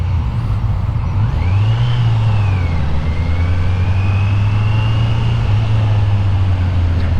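A Kawasaki Z900 motorcycle engine rumbles deeply, continuously and steadily, loud and close, with a faint high whine drifting above it; no one speaks.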